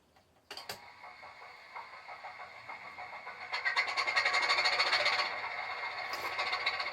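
A model railway locomotive starts up on a layout with a sharp click, then a whirring, rattling mechanism that builds into a steady rhythmic mechanical chatter.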